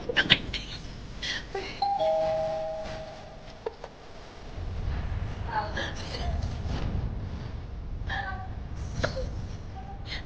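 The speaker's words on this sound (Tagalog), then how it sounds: "May nagdo-doorbell." A doorbell rings a few times amid a noisy room, with a child whimpering and people talking nearby.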